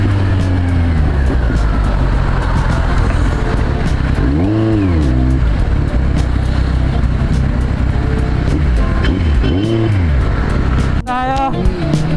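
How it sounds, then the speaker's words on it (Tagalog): Heavy road traffic in Malolos: a steady, loud rumble of car and motorcycle engines, with several vehicles revving and passing close by and a short horn-like blare near the end. "Grabe traffic sa Malolos"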